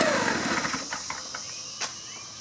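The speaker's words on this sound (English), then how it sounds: "Try to start it without the air filter. Put it on choke. Turn it on." A 2-cycle blower/trimmer engine, running without its air filter and on choke, sputters through an attempted start with uneven buzzing pulses and a few sharp bursts, fairly close.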